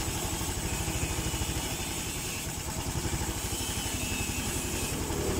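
Honda Supra 125 FI motorcycle engine, just after ultrasonic injector cleaning and suspected of a leaking valve, idles steadily nearby with an even, continuous rhythmic chug and clatter throughout, with no talk.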